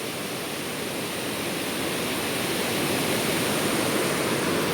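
A waterfall in Alappuzha roars as a steady, loud, even wash of rushing water, continuous and unbroken throughout, with no voices.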